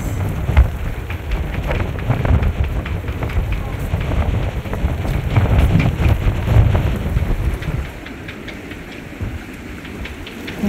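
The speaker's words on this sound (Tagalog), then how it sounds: "Grabe yung hangin, guys." Strong wind gusting by the sea at World's End on the Norwegian coast, a loud steady roar buffeting throughout, easing slightly toward the end, with people talking faintly underneath.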